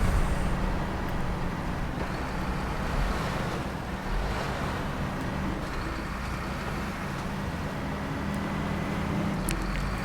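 A heavy truck in SnowRunner, fitted with a more powerful engine, slightly better tyres and a better gearbox, drives along a road in a steady, loud, rumbling drone that holds unbroken for the whole stretch with no talking.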